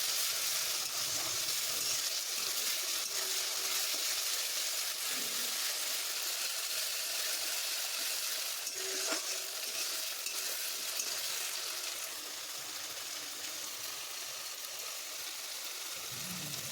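Mutton khichuri masala frying with a little sugar, a continuous close sizzle with stirring scrapes running throughout, steady and loud with no talk.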